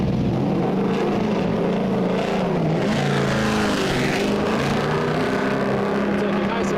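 A drift car engine roars at sustained high revs on a track, loud and close throughout, with throttle held wide open and slight pitch shifts.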